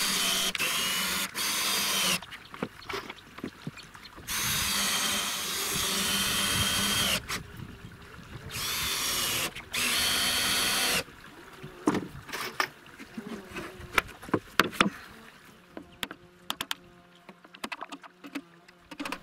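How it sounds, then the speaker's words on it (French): Power drill driving screws through wooden rafters into a board, several whirring bursts of a few seconds each, close and loud, followed by shorter clicks and handling sounds. "Ensuite, j'ai découpé des chevrons que je visse sur la planche."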